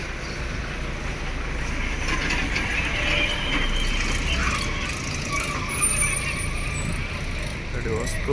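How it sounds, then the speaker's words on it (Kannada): A KSRTC bus starts up at the busy Tumakuru bus stand, its engine and mechanical rattling rising steadily over several seconds, with brief hissing and clanking amid the crowded station noise. "ಗಾಡಿ ಸ್ಟಾರ್ಟ್ ಆಯಿತು"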